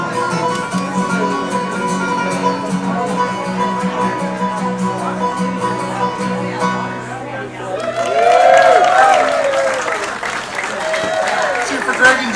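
A studio audience at a gospel music show applauds and cheers, the clapping swelling loudly near the end after a stretch of music with talk over it.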